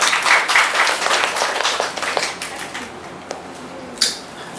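An audience applauds at a book launch ceremony, a dense patter of many hands clapping close by that fades gradually toward the end.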